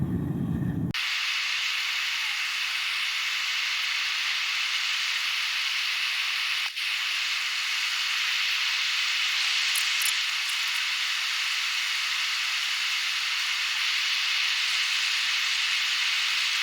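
A heat jet torch used for cupellating hisses loudly and steadily, a constant close roar that starts abruptly and runs unbroken for the whole stretch.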